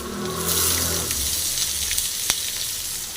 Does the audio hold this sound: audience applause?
no